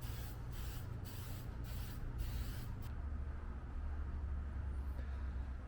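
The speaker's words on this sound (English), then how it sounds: "I'm going to use Duplicolor bumper and trim paint." Duplicolor bumper and trim paint sprays from an aerosol can in several short hissing bursts, close and fairly loud, followed by a steady low rumble with no spraying.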